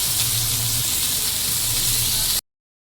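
Food coated in gram flour and semolina fries in hot oil with a loud, dense, steady sizzle that stops abruptly near the end.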